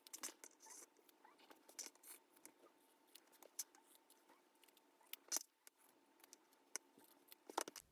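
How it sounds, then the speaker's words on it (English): Sewing scissors snip small notches into quilted fabric for a zipper pouch, a quiet, close series of sharp metallic clicks and short cuts at irregular intervals. "I'm just going to use my scissors and cut out these little notches."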